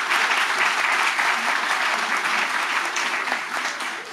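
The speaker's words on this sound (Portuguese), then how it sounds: "sempre uma salva de palmas" Audience applause at a public health committee session, a full, sustained round of clapping from a crowd that stays strong and eases off slightly at the close.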